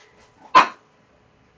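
A small dog gives a single sharp, squawky bark, close and loud, with a faint second yip just starting at the end amid otherwise quiet surroundings.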